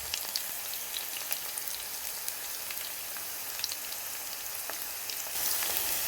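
Okra pieces for bendakaya 65 frying untouched in a pan, giving a faint, steady crackle with scattered light pops throughout and a slightly stronger burst near the end.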